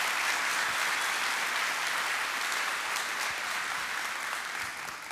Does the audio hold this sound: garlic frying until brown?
no